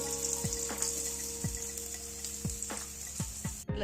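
A spinach flatbread sizzles steadily in oil in a pan over low heat, giving a constant bright frying hiss. Soft, regular, dripping plinks recur about once a second underneath.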